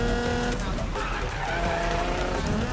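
Nissan GTR in the Need for Speed 2015 video game, a loud continuous engine drone with screeching tire squeal as the car drifts and slides.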